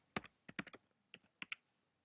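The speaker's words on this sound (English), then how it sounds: "you want to click on the formula bar and start typing the formula equals frequency" Keys on a computer keyboard clatter in quick, light bursts as a formula is typed into a spreadsheet, close and clear, with short pauses between clusters of keystrokes and no talking.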